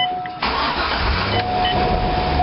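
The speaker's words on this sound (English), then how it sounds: "now we're going to start the engine." A Corvette C5 engine cranks briefly and catches after an oil change, then settles into a loud, steady idle close by.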